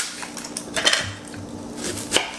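A knife chops half an onion on a board while cooking baby food, giving a handful of sharp, close taps spaced irregularly over a couple of seconds, with faint clinks of kitchenware between them.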